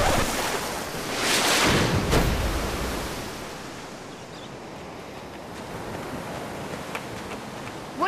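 Ocean surf roars in a broad, continuous wash, swelling briefly early on and then settling into a steady rumble with faint splashes. No voices cut through it.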